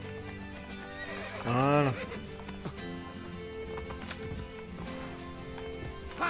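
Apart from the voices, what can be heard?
horses galloping in Assassin's Creed Brotherhood video game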